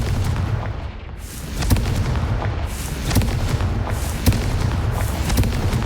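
Explosive Confringo spell blasts in Hogwarts Legacy: a steady rumbling wash of magic explosions punctuated by several sharp booming impacts spaced about a second or two apart, loud and continuous throughout.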